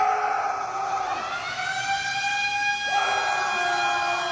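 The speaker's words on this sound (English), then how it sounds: "Show a video of the lunk alarm going off." A gym lunk alarm siren wails loudly and continuously, its electronic pitch sweeping and stepping between tones, sounding close and insistent throughout.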